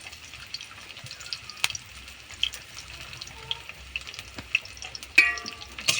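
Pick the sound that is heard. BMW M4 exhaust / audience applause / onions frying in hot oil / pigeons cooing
onions frying in hot oil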